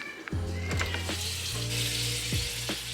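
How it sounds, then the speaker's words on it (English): Jackfruit sautés in a pan with a steady, close sizzle, broken by a few scraping stirs and knocks of a utensil against the pan; no one speaks. "Let that saute for about 5 or 10 more minutes"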